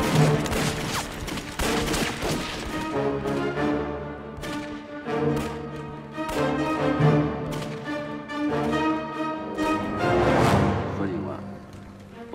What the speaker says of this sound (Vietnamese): Súng bắn từ đâu vậy?